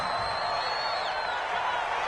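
A dense stadium crowd roars continuously in a football video game, a broad steady wash of noise filling the whole moment with no break.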